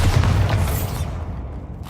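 A video game explosion from the Bombarda spell: a loud, deep booming blast that rumbles and fades across about two seconds, with no voices.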